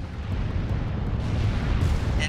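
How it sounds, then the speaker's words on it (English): A heavy missile launches and explodes in the video game Armored Core VI, a sustained roaring, rumbling blast that fills the whole stretch, with a bright crackle near the end. "Missile launch sequence complete, Chief."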